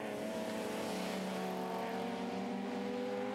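BMW M3 V8 race car at Pukekohe, a loud bellowing engine climbing steadily through the gears with a strong, continuous harmonic drone, close and alone with no voices.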